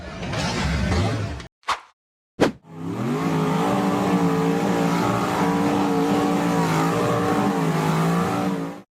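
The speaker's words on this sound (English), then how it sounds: "The orange and black framed buggy revved hard and accelerated as it attempted to climb a steep, rocky ravine." An orange and black framed off-road buggy revs hard and accelerates up a steep, rocky ravine. The loud engine drone rises and falls in pitch after two short bursts and brief silences at the start.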